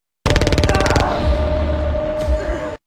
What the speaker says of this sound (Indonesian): akhirnya melepaskan tembakan